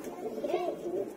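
A pair of madrasi pigeons, a yellow male and a brown female, coo softly close by in a short run of low, rolling calls.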